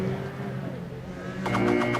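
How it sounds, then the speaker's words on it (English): Mazda MX5 Cup race cars run a pace lap on a New Jersey racetrack, engines droning steadily, with a brighter burst of revving and tire noise rising near the end and a faint voice underneath. "Cars back on the racetrack now."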